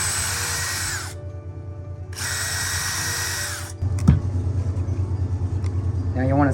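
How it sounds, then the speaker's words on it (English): Two bursts of a high-pitched power drill whining as it pre-drills wood for a butt joint, each a second or so long with a brief pause between, followed by quieter handling noise and tapping. "I'm going to pre-drill so I don't crack my wood with a drill bit"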